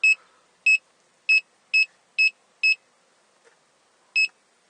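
A reversing parking sensor on a Chrysler Grand Voyager gives short, clear electronic beeps: six evenly spaced, then a pause before one more, fairly loud against near silence.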